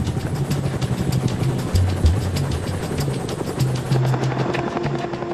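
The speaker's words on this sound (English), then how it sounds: "The wounded are taken off in the first Chinook." A Chinook helicopter used for evacuating wounded drones with a dense, continuous rotor thump and engine roar, loud and close throughout.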